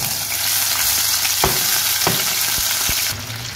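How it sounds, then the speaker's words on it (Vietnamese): Pigeons frying in a pan of oil give a steady, loud sizzle throughout, with a few sharp clicks and knocks from stirring, and the hiss eases slightly near the end. "Các bạn chuẩn bị một cái chảo dầu nhé, và chúng ta cho chim và chúng ta rán lên."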